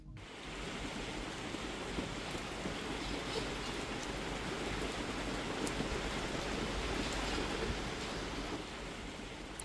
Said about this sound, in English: it's another beautiful rainy day